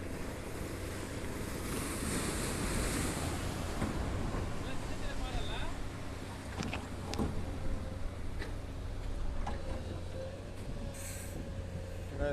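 Ocean waves breaking on a rocky Chennai shore while fishing for trevally, a continuous rolling surf wash with gusting wind, and someone talking over it.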